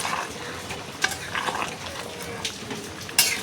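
Mutton kosha cooking in a pan as ground garam masala is added and stirred in, a soft steady sizzle with occasional clinks and scrapes of a spoon against the metal, close by and without talk.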